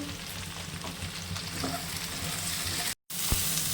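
Mushrooms lightly frying in a pan for chilli mushroom, giving a steady, close, dense sizzle throughout with a brief dropout near the end and a single soft clink after it.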